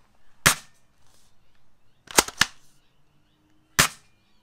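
An S1897 shotgun gel blaster firing over a chronograph, heard as four sharp, close snaps; the middle two come in quick succession and the others are spaced apart.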